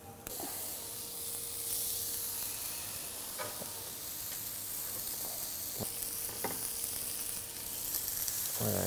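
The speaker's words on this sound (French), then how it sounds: "Il ne reste plus qu'à griller les viandes." Basil-and-herb-marinated lamb meat sticks sizzle on a hot grill with a steady hiss, broken by a few sharp clicks and taps of tongs or utensils, close and moderately loud with no talking.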